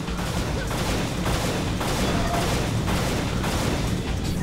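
Rapid, continuous gunfire from the video game Unreal Gold in a co-op session, with dense bursts of repeated shots pounding steadily throughout with no pause.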